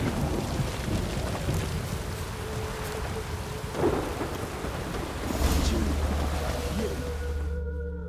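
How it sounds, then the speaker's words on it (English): Rain and thunder in The Witcher 3: Wild Hunt: dense, steady downpour hiss with a low rumble of thunder swelling partway through, loud and close, cutting out abruptly at the end. "Witches have conjured rain."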